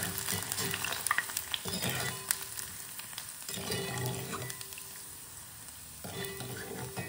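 Onion vadam, sun-dried shallot crisps, frying in hot oil as they are stirred, a close, bubbling sizzle that surges and eases in waves with scraping stir strokes, no talking.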